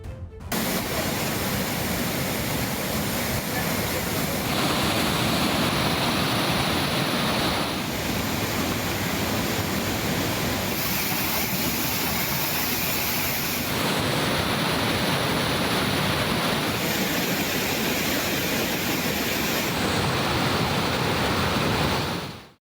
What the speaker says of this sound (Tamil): குமரி மாவட்டம் திற்பரப்பு அருவியில் வெள்ளப்பெருக்கு தொடர்கிறது.